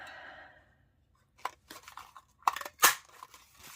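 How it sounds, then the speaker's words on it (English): Hand punch cutting circles from digital paper for greeting cards, a few sharp close crunching snips after a brief quiet stretch, opening on a faint hum. "So I will just cut these out with my punch as well."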